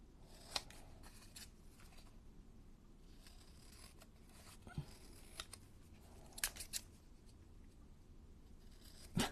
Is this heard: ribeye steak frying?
no